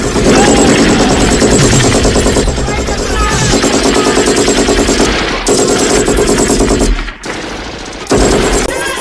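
Relentless, loud bursts of machine gun fire from the 1985 action film Commando as troops riddle a warehouse, dense and continuous with brief breaks near the end, mixed with a film score.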